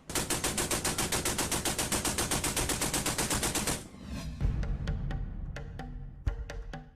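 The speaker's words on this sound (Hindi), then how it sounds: "वो टैंक पर लगी मशीन गन से फायरिंग शुरू कर देता है" A tank-mounted machine gun fires a rapid, loud burst of evenly spaced shots for about four seconds, then scattered single cracks and heavy booms follow amid rumble.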